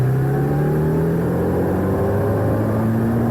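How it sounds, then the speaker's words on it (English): A Triumph Bonneville motorcycle with a Stage 1 tune accelerates hard in second gear from about 50 to 100 km/h, its engine note rising steadily and loud the whole way, close up and with no one talking. "I will accelerate from 50 kilometers per hour to 100 kilometers per hour in second gear and record the time"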